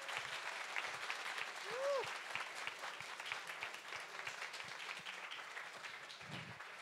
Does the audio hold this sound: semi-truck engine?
no